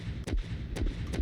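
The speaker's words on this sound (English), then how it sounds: "I want to add sound effects. So I'm going to search up like cannon" Cannon blasts picked as a sound effect in a game editor for a platformer level: three booming shots with deep low thuds and sharp bursts, spaced unevenly and close, with no talking.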